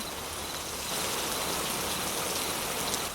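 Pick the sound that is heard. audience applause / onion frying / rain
rain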